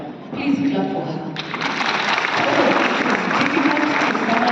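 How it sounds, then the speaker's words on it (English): Audience applause at a Kenyan financial education panel event, a dense sustained clapping from a crowd that swells after the first second and continues steadily and loudly throughout. "Please clap for her."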